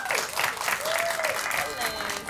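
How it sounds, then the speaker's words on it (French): A crowd at a Halloween show applauds with sustained clapping. The sound is dense and fairly close, and voices and cheers are mixed in. "On peut l'applaudir."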